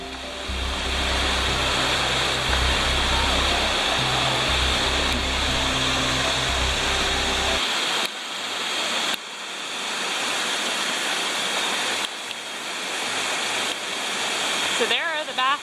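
Cold water pours steadily into hot spring baths in Baños, Ecuador, a loud, continuous rushing that runs the whole time, with a low rumble underneath during the first half.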